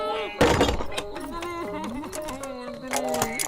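A door or shutter slams shut with one heavy thunk near the start, followed by a quieter metallic rattle as it is fastened, with people talking throughout.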